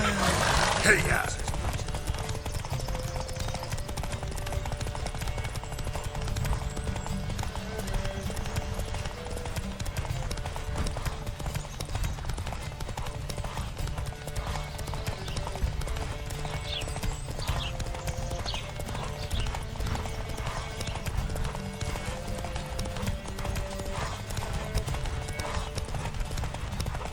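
Horses gallop flat out in a race in The Witcher 3 on the Zerrikanian Bay, rapid hoofbeats drumming steadily for the whole stretch under a dense game score, with a brief whinny near the start.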